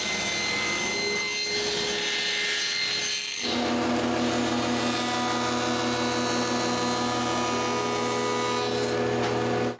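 A saw cuts through a wood panel for a door frame, working in a continuous rasping stroke that runs steadily and fairly close, growing fuller partway through as the blade bites deeper.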